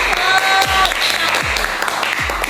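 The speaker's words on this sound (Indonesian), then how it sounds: "tepuk tangan untuk kelompok" A class in a classroom applauds a student group, a steady patter of many hands clapping close by for a couple of seconds, with a faint voice briefly under it.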